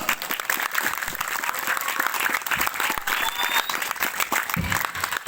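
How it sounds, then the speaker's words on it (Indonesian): Crowd clapping at a religious gathering, a dense sustained burst of hand claps from many people, loud and continuous for several seconds. "Tepuk tangan untuk Islam."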